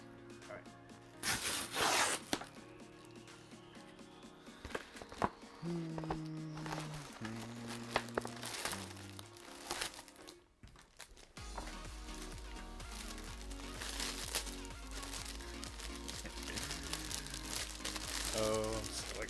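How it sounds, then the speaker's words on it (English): Plastic packaging crinkles and rustles in bursts during an unboxing, the close, quiet handling sounds coming in irregular bunches with brief pauses, and a voice talks softly in places. "Sorry for all that plastic sound."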